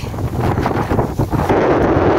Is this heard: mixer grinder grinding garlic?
no